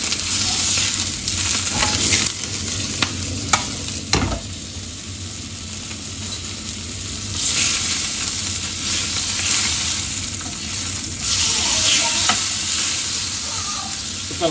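Oil sizzling and crackling in a frying pan, a continuous loud hiss broken by sharp pops and stirring scrapes, with no voices.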